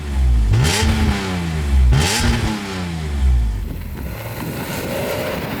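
A BMW E46 M3 engine revs hard while driving, with two loud climbing revs and gear changes, then a lower steady engine note with road rumble.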